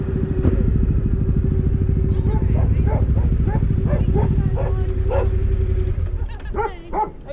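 Dogs at a remote rural property bark and yip repeatedly, close and loud, over a steady idling motorcycle engine hum that cuts off near the end, with a voice briefly audible.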